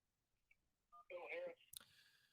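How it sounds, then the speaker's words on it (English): A run of telephone keypad dialing tones opens a radio call-in line, a few short beeps followed by a louder tone burst and a click, fairly quiet and with no talk over them. "Let's jump to the phone lines real quick."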